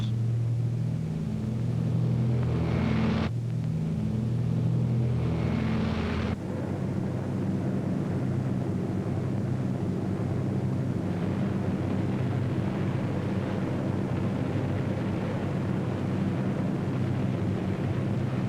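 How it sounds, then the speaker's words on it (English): RAF bomber engines drone in a steady, heavy, continuous rumble that holds level throughout, with a brief shift in tone early on and no pause. "Hitler's fortress Europe rocked under the terrific pounding of RAF bombers."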